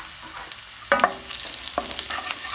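Ginger and garlic frying in a pan after cumin seeds, a steady sizzle broken by two clear scrapes of a spoon stirring it.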